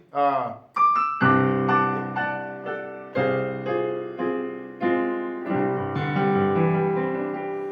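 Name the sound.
piano minor chord inversions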